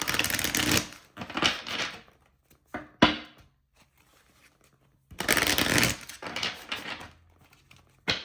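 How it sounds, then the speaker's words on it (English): Bursts of tarot card shuffling, two long riffles separated by quieter handling and a few soft taps, close and fairly loud. "let me shuffle"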